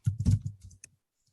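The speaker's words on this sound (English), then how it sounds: "And then I'll type in my username and my password." Typing a username and password on a computer keyboard: a quick cluster of close, soft key clicks lasting under a second, then quiet.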